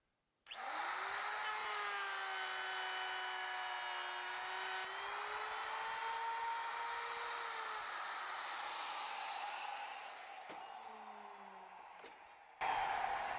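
A loud, steady power-tool whine runs continuously for about twelve seconds through a cut, with slight shifts in pitch as it bites, close and alone, then a brief change as it finishes.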